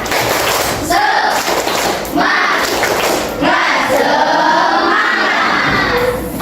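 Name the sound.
class performing the 'tepuk semangat' spirit clap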